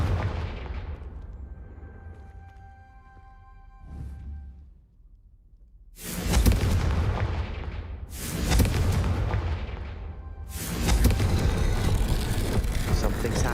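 Repeated Confringo blasting spells in Hogwarts Legacy: several heavy booming explosions burst in succession, each with a long rumbling decay, loud and close, after a quieter ringing tail at the start.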